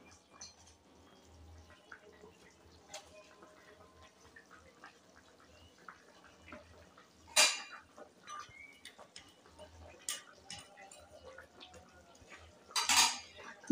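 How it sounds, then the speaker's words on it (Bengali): Fish curry gravy with tilapia and bottle gourd is stirred in a cooking pot. A low simmering bubble runs underneath, broken by a few sharp metal spoon clinks against the pot near the middle and at the end. "ঝোলটা একটু নাড়িয়ে দেব"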